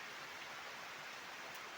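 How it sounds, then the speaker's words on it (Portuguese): Steady rain falls beside a swimming pool on an afternoon, a dense, even hiss with no voices over it. "A chuvinha aqui pra mim estar descansando aqui agora"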